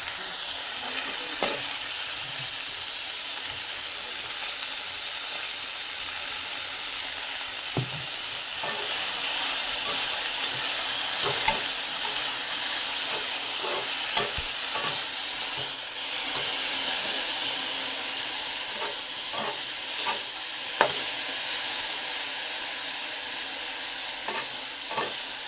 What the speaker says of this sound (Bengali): তো চলো ভেন্ডিটা ভাজা হতে থাক